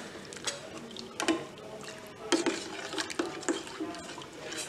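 Custard milk being stirred in a pan over a low gas flame, with soft liquid swishes and spoon scrapes against the pan coming in irregular bursts at close range and at a fairly quiet level.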